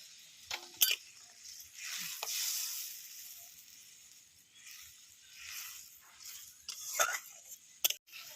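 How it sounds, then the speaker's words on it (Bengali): A spoon stirring Pabda fish curry in a pan so it won't stick, with soft scraping strokes over a gentle simmering sizzle, rising and falling in a few brief louder bursts, no talking. "এই যে দেখুন আমি একটু নেড়ে দিচ্ছি যাতে নিচে না ধরে যায়"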